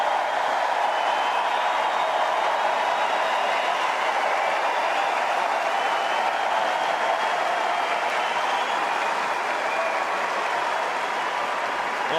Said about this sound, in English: Applause as he leaves centre court